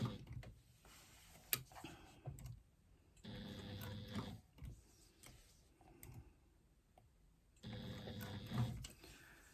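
A sewing machine punches through thick layers of leather in short, quiet bursts of rapid stitching, with a heavier thudding tone, separated by near-silent pauses.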